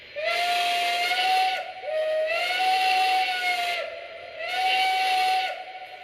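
Banshee steam whistle on a B6 model steam locomotive, three long sustained blasts with brief gaps and a steady hiss of steam beneath, loud and close with no talking.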